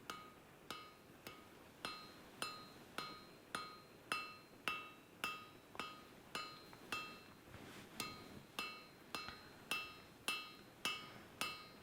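Regular, evenly spaced hammer blows ring out while forging tapered Viking tongs, about sixteen sharp metallic strikes in steady rhythm, each with a bright clinking ring that fades quickly, close and alone.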